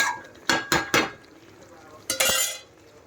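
Metal pot lid clanks and scrapes as spicy mutton kasa is covered on the stove, several sharp clinks in two bursts, close and clear with a faint background hum.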